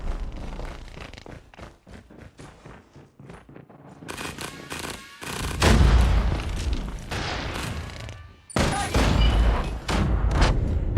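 Grenade blast in a Call of Duty–style hardpoint match at a world championship event, a loud broadband boom near the middle followed by dense gunfire bursts and crowd or caster noise throughout.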